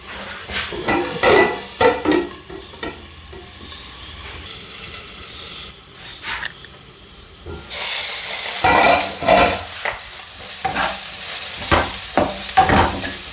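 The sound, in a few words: sautéing and stirring in a pan for egg curry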